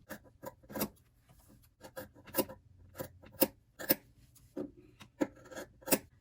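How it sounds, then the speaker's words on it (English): Scissors trimming the corners of charm-pack fabric for a trinket dish: a close, quiet run of short snipping and rasping cuts in an uneven rhythm, with no talking. "After you're done trimming the corners"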